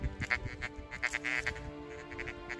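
An XP Deus metal detector gives off a warbling electronic signal tone in uneven bursts of chirps over a steady low hum, fairly close by, in a field in South Yorkshire.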